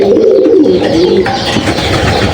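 Pigeons kept at home, including hens that have stopped laying, coo in low, throaty, repeated rolling calls that overlap into a continuous murmur, close and loud, with no voices.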